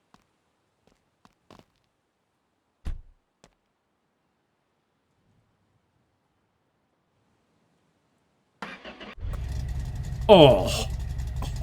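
A customer's car in a garage cranks and fires up near the end after a long near-silent stretch with a few small knocks, settling into a steady loud idle while a voice briefly exclaims.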